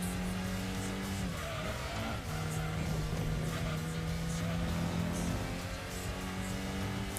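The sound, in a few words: Datsun 240Z car racing in Gran Turismo 2 video game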